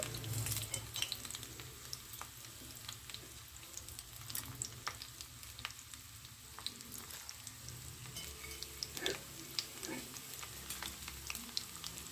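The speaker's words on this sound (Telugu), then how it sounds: "పోపు అయితే వేసేసుకుంటున్నానండి" Tempering spices (chana dal, cumin, fenugreek, urad dal) crackle and sizzle in hot oil, a quiet continuous fry with scattered pops and light stirring scrapes.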